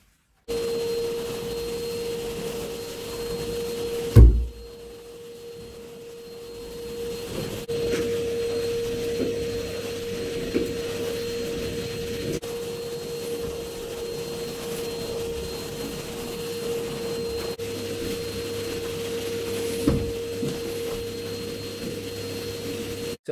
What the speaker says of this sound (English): So I'm gonna be hoovering this floor quickly.